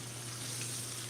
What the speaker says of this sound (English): Let me check my chicken here. See if we're all frying up nicely.